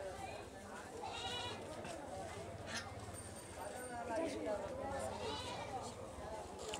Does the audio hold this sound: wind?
no